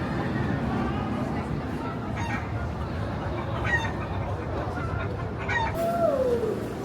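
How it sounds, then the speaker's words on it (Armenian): Chickens cluck intermittently nearby over a steady outdoor background at Europa-Park, with a few sharper calls toward the end. "Հավերը։"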